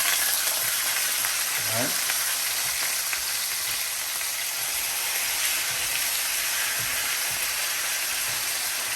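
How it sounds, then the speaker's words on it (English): A T-bone steak fries in a pan with a loud, steady sizzle that holds throughout, a brief scrape as it is flipped, and a voice speaking briefly over it. "Now I'm gonna go ahead and flip my steak to the other side"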